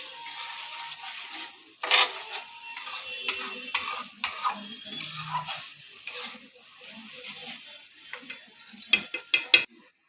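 Spice paste for a meat curry is stirred and fried in a pan, a spoon scraping and knocking against the metal in irregular strokes over a faint sizzle, fairly close, with no talking.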